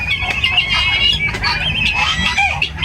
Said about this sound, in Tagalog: So manok po yung nakikita ninyo ngayon na marami dito.